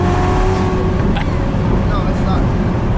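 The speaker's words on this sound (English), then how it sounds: "This can't be stock exhaust." A modified exhaust on a Corvette C7 Z06 driven with a manual gearbox at night roars steadily and loudly from inside the cabin, a continuous dense engine drone that holds throughout.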